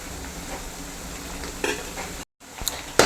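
Small beef pieces sizzle in a pan for Kerala-style beef pickle while a spoon stirs them, with a steady fry hiss broken by a few scraping clinks against the pan.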